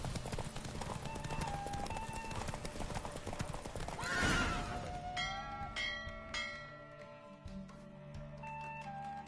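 Horse hooves clip-clop at a gallop with loud whinnies and neighs in The Witcher 3: Wild Hunt, a busy race scene with bells and music behind; the hoofbeats ease off near the end.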